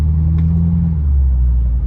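Diesel pickup truck engine idling close by, a heavy low rumble with a steady hum that dips slightly partway through, loud and without talk.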